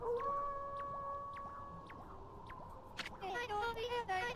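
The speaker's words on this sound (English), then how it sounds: "That was Kemu's howl." Kemu's howl in the video game Okami: long, sustained wavering tones that hold and slide, echoing wolf-like, followed by a burst of layered, brighter howling cries near the end, loud and clear with no talking.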